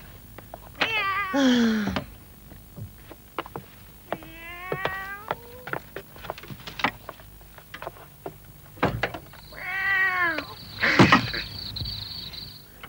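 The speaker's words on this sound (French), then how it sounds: "Oh, ce sale matou encore." A tomcat meowing in a French village, several drawn-out, wavering yowls spaced across the stretch with rough caterwaul tones, close and fairly loud, interspersed with small knocks and clicks and a brief human exclamation.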